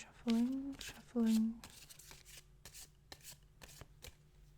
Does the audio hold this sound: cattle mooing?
no